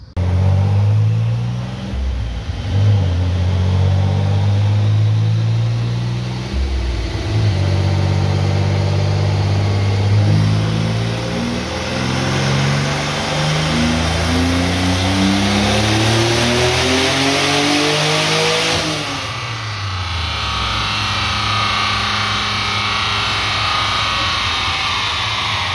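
Nissan Z31 with a turbo swap on a dyno pull: loud engine revving close by, rising steadily in pitch through a long pull with gear-like steps, then easing off and dropping back toward the end.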